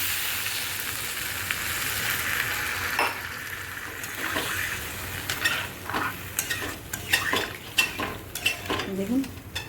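Bengali egg and potato curry sizzles in a pan just after water is poured in, with a steady frying hiss overlaid by frequent scraping and clinking of a spoon that grows busier toward the end.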